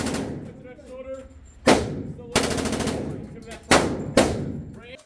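A Bren machine gun fires in the H3VR virtual reality game, four loud bursts of rapid automatic shots separated by pauses, each ringing off before the next, with someone talking at first.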